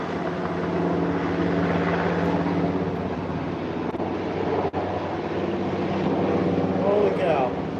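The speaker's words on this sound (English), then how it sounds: "We've got the helicopter going on" A helicopter overhead makes a steady, droning rotor roar that fills the scene, with wind buffeting the microphone; people talk faintly underneath.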